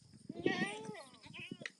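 Goats bleat on a farm, does calling out in quick, wavering cries close by, overlapping with a voice.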